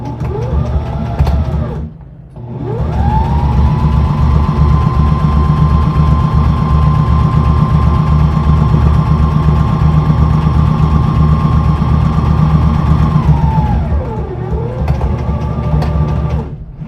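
A sewing machine stitches a pocket onto a skirt back, its motor whirring up, then holding a loud, steady hum for about ten seconds before winding down, with brief stops on either side.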